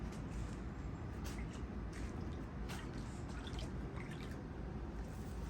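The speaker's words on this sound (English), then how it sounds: "I'm going to pour the chlorine in." Faint trickling and dripping of chlorine granules poured into hot tub water against a steady low background hum, with scattered small drips and splashes close by.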